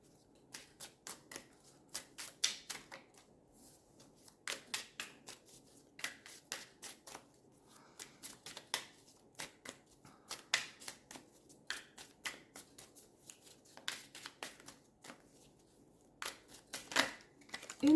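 Tarot cards are shuffled and drawn by hand, giving quiet repeated riffling flutters and soft slaps in uneven bursts, close and intimate, with no voices.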